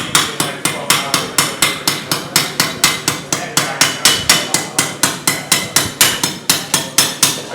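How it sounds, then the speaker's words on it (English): A hand hammer strikes metal in a steady run of short, controlled, evenly spaced blows, about three per second, each a sharp close ringing tap with quick decay. "I've choked up on the hammer"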